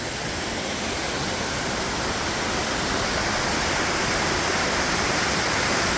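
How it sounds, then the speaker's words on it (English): King Creek Falls, a waterfall along a trail, roars in a steady, dense rush of white water that holds even and unbroken throughout, close and loud with no voices. "King Creek Falls."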